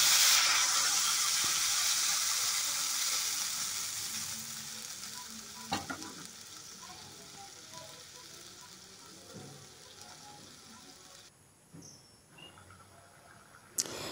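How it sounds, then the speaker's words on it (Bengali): Water poured into a hot pan after frying potatoes and taro for a thin hilsa fish curry. A loud, bright sizzle bursts at the start, then slowly fades to a softer hiss, with a few scraping clinks near the end. "ভাজা হয়ে গেছে, এবার আমি জল দিয়ে দেব।"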